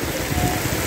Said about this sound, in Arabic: شوف شتا كيطيح خيط من السما